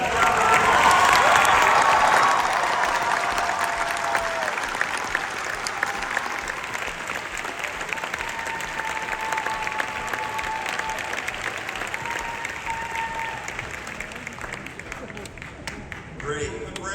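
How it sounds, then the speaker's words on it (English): A graduation audience claps for university faculty and staff, strongest in the first couple of seconds and then thinning into a sustained, slightly softer patter of many hands across a large hall. "Give them a round of applause."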